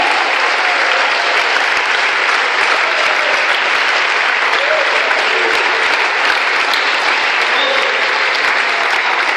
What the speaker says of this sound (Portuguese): Aplauda aí pelo que já é seu.